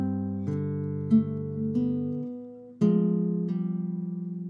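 A classical guitar plays bar 8 of a Julio Sagreras beginner lesson, a handful of plucked notes including a descending slur to an open string, clear and close with no talking.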